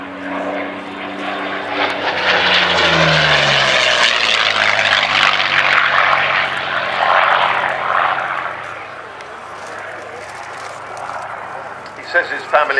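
A Curtiss P-40 Kittyhawk propeller fighter's engine roars loudly as it passes close by at the Cosford air show, its pitch sliding downward, then fading to a steadier drone.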